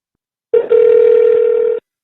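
A telephone dial tone sounds while placing a call on a radio morning show: a single loud, steady electronic tone held for just over a second, with a brief stutter at the start, then cut off.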